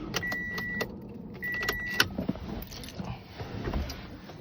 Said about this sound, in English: Turning, but whining. Sounds like it has no compression at all.